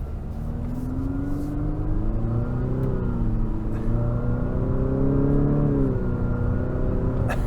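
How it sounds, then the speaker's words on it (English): A 2023 Infiniti QX50's variable compression turbocharged four-cylinder engine drones steadily from inside the compact crossover, its pitch rising, easing and climbing again under road and cabin rumble, with no voices over it. "it makes a really unique sound with this variable compression turbo 4-cylinder"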